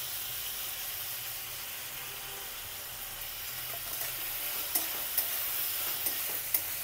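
Hing (asafoetida) dropped into hot oil with onion and tomato in a pan for an Indian green-chilli and drumstick curry, a soft steady sizzle with faint stirring scrapes and a few sharp clicks near the end.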